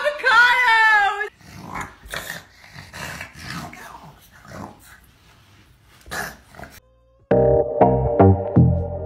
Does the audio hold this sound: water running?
no